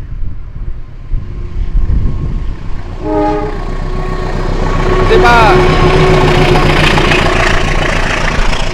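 A train passes at Cimekar station in Indonesia, with a loud horn blast and then a second, brighter horn over a constant heavy rumble of engine and rolling wagons close by, the noise swelling as it nears.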